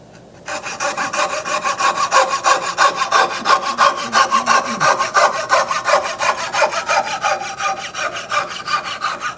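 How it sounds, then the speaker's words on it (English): Hand saw cutting wood dovetails, a steady run of rhythmic back-and-forth strokes rasping close and loud for the whole stretch, easing slightly toward the end with no talking. "Actually holding the saw back as I get towards the end."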